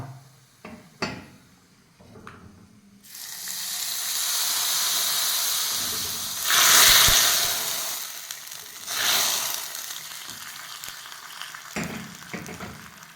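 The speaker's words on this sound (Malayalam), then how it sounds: "ഇന്ന് ചട്ടിക്കും കടുകിനും ഒക്കെ ഭയങ്കര സൗണ്ടാണ്" Loud sizzling and spluttering of mustard seeds in a hot pan, bursting in waves with crackly pops, close up and with no talking.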